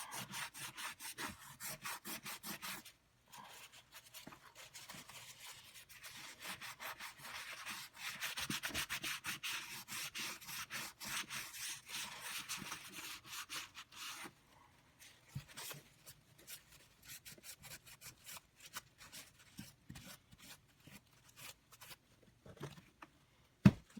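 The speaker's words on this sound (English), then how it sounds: "I'm giving it pressure now here, polishing it up a little bit." Embossed copper panel on a cigar box being rubbed and polished by hand under firm pressure, a quiet, continuous scratchy scrubbing that runs in uneven bursts with short gaps, nearby and faint.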